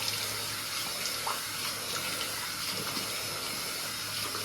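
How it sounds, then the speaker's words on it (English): Cold water runs steadily from a bathroom tap while someone washes their face, a constant close hiss and splash filling the whole stretch with no talking. "I'm gonna go ahead and wash it off with cold water"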